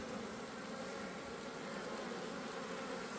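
Honeybees crowd a busy hive entrance in a dense, steady buzz of many wings that holds evenly throughout, close and continuous with no voices.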